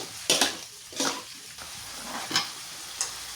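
Squid cooking in spicy oyster sauce is stirred in a pan, giving four or five separate scraping swishes over a soft, steady simmer, close by with no talking.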